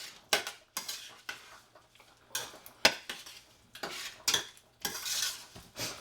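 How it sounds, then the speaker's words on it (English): Sweetened carrots stirred in a pan, a spoon scraping and knocking against the metal in close, regular strokes, about ten clattering bursts with a faint sizzle between them. "now I'm just going to stir these up"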